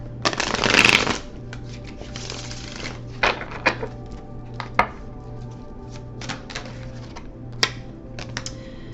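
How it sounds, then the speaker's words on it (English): A riffle of tarot cards being shuffled up close, followed by a series of soft, scattered taps and flicks as cards are handled and laid down. "Let's get one more shuffle in here"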